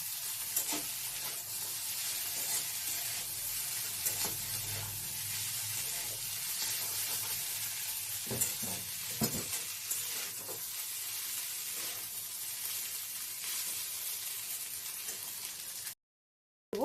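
Ingredients stirred and mixed in a sizzling pan, a constant bright frying hiss with occasional scraping stirs and clinks, close and continuous before a sudden cutoff near the end.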